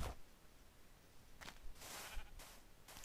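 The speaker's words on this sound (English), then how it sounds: "Here's some sheep. We'll steal their wool." Minecraft sheep bleat in a few short, separated calls, fairly faint against quiet game ambience with no talking.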